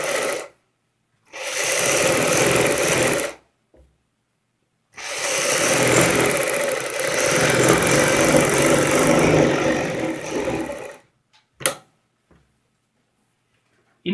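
Sewing machine stitching together the front and back pieces of palazzo pants, running in two long continuous bursts separated by short pauses, steady and close, with a brief click near the end.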